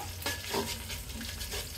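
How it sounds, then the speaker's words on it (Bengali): Whole spices fry in oil for rice tehari, giving a steady, fairly soft sizzle with repeated stirring scrapes in a regular rhythm and no voices. "আমাদের মশলাটা যখন ভাজা ভাজা হয়ে গিয়েছে"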